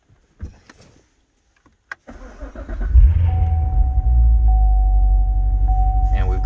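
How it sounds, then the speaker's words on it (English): A Chevrolet C7 Corvette engine cranks and fires, then settles into a loud, deep, steady idle, with a thin electronic chime tone sounding over the rumble inside the car. "And then I'm going to have John go ahead and start the car."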